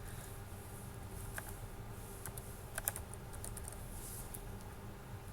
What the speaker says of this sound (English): I will type my email address here